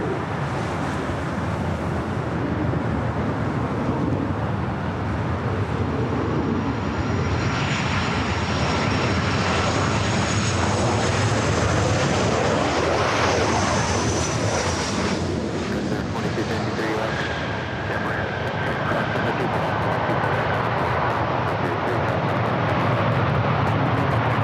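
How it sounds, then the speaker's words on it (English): A Delta Boeing 737 arriving from Seattle at LAX roars past with loud, sustained jet engine noise that swells and shifts over about twenty seconds, a steady wash of engine sound filling the whole stretch. "Flight coming up from Seattle, Delta 737."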